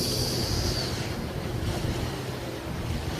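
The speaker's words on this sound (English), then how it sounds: "A few bad waves here" Waves slap and rush against a sailboat during a sailing race, a steady broadband wash mixed with heavy wind noise on the microphone, with no voices.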